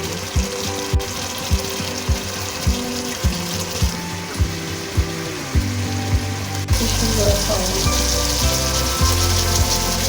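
Meat and potatoes for aloo gosht sizzle and crackle in hot oil, a continuous spitting hiss broken by regular low knocks, with a brief louder surge of frying near the end.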